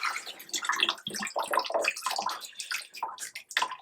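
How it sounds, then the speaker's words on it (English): Water sloshing and gushing out of a Fluval FX6 aquarium canister filter in uneven bursts, gurgling and splashing close by for a few seconds. "you're gonna dump out your main canister. Definitely holds quite a bit of water."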